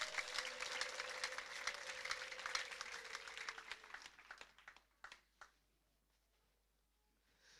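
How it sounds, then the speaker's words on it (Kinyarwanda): A church congregation applauds loudly, a dense burst of clapping that thins into scattered claps and dies away after about five seconds, leaving near silence. "Abatarafatwa bakomera Imana amashyi menshi cyane."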